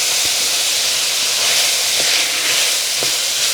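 Minced beef sizzles and hisses steadily in a hot pan, a continuous close frying crackle with a few faint scrapes as the meat is broken up.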